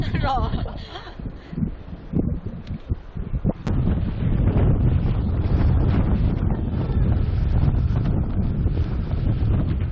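Strong wind roars into the microphone throughout a mountain bike ride on Gwangdeoksan in Asan, with scattered knocks and rustles early on before a steady, loud gusting rush takes over.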